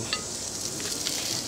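Corn cobs sizzling on a grill, a steady hiss that runs alone through the whole short stretch, close and fairly loud, with no talk.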